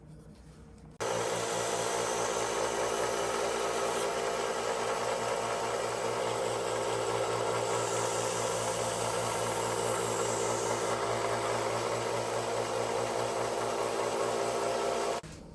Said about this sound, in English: Now I'm fixing to go over there to the sander and give it a new edge and a new point.